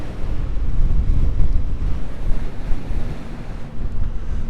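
Waves and gusty wind on the IJssel lake, a loud continuous rumbling wash with wind buffeting the microphone throughout and no voices.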